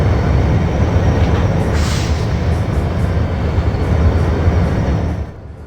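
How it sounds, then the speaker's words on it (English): An intermodal freight train rolls past with a steady, loud rumble of rail cars and wheels, continuing for several seconds before fading slightly at the end. "Just then, Sans arrived with his intermodal train."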